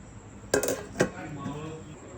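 Plates and glasses being picked up in a home kitchen, two sharp clattering clinks of dishes close by, followed by quieter rattling, with a faint background of voices.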